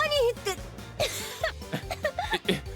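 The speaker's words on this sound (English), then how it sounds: "spat out her tea and went into a coughing fit" A female character in the visual novel Kakenuke spits out her tea and coughs: several short, harsh coughs and sputters follow a strained vocal sound at the start, close and loud, mixed with voiced, laugh-like bursts.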